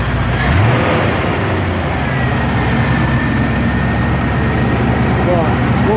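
A Range Rover Classic running on LPG: the engine gives one brief rev near the start, then settles into a loud, steady low rumble that continues throughout, recorded close by.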